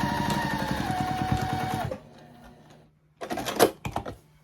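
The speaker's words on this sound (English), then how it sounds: "make sure to do those back stitches" A sewing machine stitches back stitches on a quilted zipper pouch, its needle hammering in a fast, even rhythm for about two seconds. It then stops, and after a short pause there is some clattering handling of the fabric.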